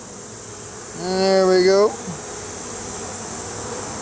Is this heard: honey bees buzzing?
yes